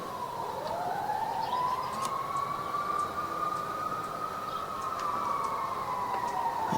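A fire engine siren passes outside, a long steady wail that rises and falls gently, heard faintly from a distance throughout with no talking.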